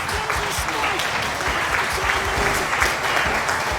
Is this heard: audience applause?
yes